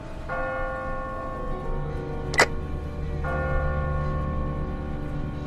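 A bell tower bell in The Walking Dead game tolls twice with long ringing sustains, loud and resonant over a low ambient rumble, with a brief sharp click between the strokes.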